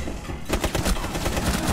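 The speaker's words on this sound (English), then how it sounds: "Shoot him through the window." Gunshots fired through a window in a multiplayer video game, a fast run of loud close shots forming a dense, continuous volley.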